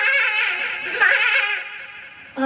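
A person imitates a baby goat's bleat with the voice, one sustained, wavering, high nasal cry lasting about two seconds, heard alone and close.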